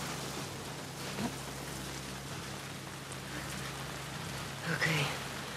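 Steady rain hisses down in The Last of Us Part II, a soft, even downpour with faint scattered drops and a low background rumble, with brief indistinct murmurs near the end.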